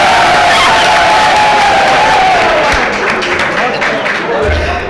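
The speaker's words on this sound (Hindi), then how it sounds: "तालियां होनी चाहिए।" A mushaira poetry gathering crowd applauds and cheers, a loud continuous wash of clapping with shouts mixed in, while a voice carries over the top.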